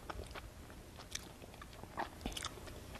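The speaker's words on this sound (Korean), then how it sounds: "이건 반올림 갈릭 소스인데 한번 찍어 먹을게요." Pizza dipped in garlic sauce is bitten and chewed close up, giving soft crunches and wet chewing in an irregular rhythm with no talking.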